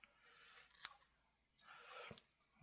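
Scissors snip off excess material from a jumbo clothespin decoration, two soft, faint cutting strokes with crisp clicks of the blades, close and quiet.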